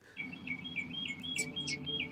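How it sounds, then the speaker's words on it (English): Small birds chirp and tweet in the background, a quiet run of thin, repeated high calls over a low steady hum. "Got birds chirping in the background too"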